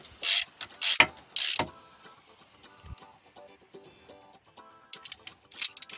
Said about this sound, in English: Go all the way around on cross pattern, start it with your ratchet.